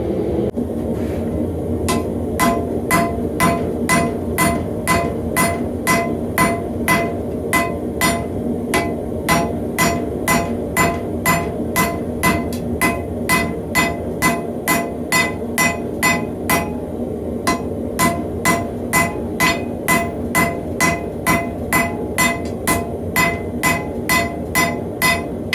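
A hammer forges a Damascus steel billet made from a saw blade, with a long run of evenly spaced metallic strikes at about two blows per second. Each strike rings sharply and close, and nothing else is heard.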